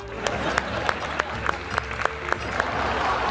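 A crowd applauding steadily, with distinct individual claps popping out of the dense clapping throughout.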